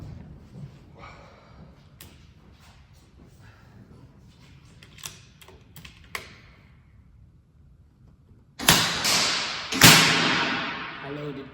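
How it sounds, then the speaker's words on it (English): Airmaks Arms Katran .177 air rifle fired from a bag rest at a 50-yard target: two sharp, loud shots about a second apart, each followed by a short ringing tail, after a stretch of faint ticks and clicks. "So yeah, 5 shots at the first dot."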